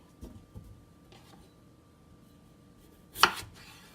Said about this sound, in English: So I am just cutting these into 4ths, about yay big.